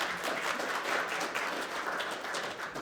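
A small conference audience claps briefly, a soft, distant patter of applause lasting a few seconds at low volume.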